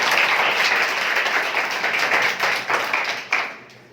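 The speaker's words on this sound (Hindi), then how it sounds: "एक बार बजाइए ताली अपनी।" Audience applause at a motivational programme in an educational institute, a dense steady wash of clapping that fades out near the end.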